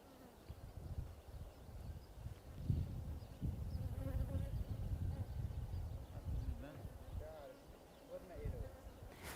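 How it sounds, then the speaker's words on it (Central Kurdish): Honeybees buzzing and circling quickly around a person, a steady low droning hum with shifting pitch throughout, under a man's speech. "مێشهەنگەکان ئەگەر دیقەت بدەن لە دەور و بەری من بە خێرایی ئەسوڕێنەوە"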